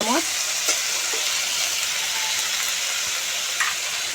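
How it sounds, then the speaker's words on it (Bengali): Kashmiri red chilli powder and other spices fry in oil with ginger, tomato and onion, a steady close sizzle with a few soft scrapes of stirring. "এবার খুব ভালো করে একটু নেড়ে ছেড়ে নেব।"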